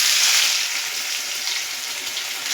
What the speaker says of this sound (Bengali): এবার আমি পনিরগুলো হালকা লাল করে ভেজে নেব।